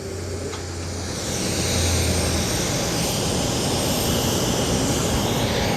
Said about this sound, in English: So this is a Ryanair 737-8 MAX. She's coming to stand 6 here at Madeira.